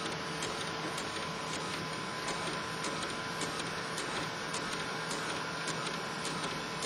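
An R-Quest robotic disc printer runs with its door open, giving a steady, loud mechanical whir with faint regular ticking from the moving print head throughout.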